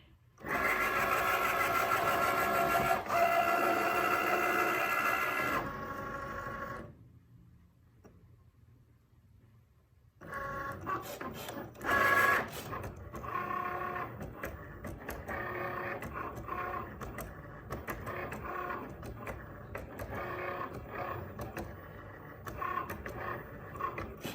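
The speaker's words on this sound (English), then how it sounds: "I'm gonna go ahead and press the Cricut button." A Cricut cutting machine slices iron-on vinyl for designer-inspired slippers, whirring and clicking steadily in close bursts, with a quiet pause midway before the mechanical motor sound resumes, no talking over it.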